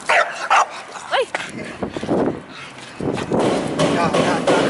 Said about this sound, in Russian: А веселая собака, а веселая собака.